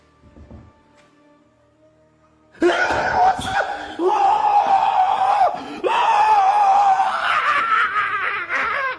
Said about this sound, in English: he lets out a panicked yell